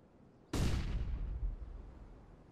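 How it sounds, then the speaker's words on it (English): A flashbang detonating in Counter-Strike: Global Offensive on the Dust2 map, one sharp loud bang that rings out and decays over about two seconds, with no talk. "Throwing a flashbang!"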